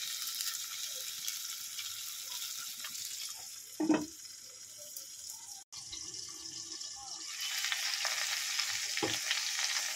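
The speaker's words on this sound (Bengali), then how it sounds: "এটাকে ধিমে আঁচে একেবারে চাপা দিয়ে দিয়ে ভেজে নেব" Flat beans fry under a lid on low heat, making a soft, constant sizzle with a brief clunk midway and no talking.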